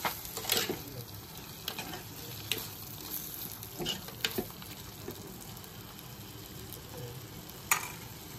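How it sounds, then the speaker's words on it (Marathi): Chicken being stirred with salt and lemon in a hot pan for a spicy village-style black chicken curry, a steady sizzle under irregular scraping strokes of the spoon, close and fairly quiet. "आणि लिंबू आणि छान असं मिक्स करते"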